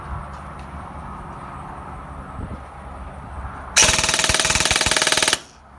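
A drum-magazine gun fires in one rapid, sustained automatic burst of about a second and a half, loud and close, after a stretch of quiet outdoor background, then cuts off abruptly.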